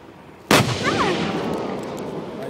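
A Japan Ground Self-Defense Force vehicle fires its gun at a target, one sudden loud blast followed by a long rumbling roll and echo across open ground.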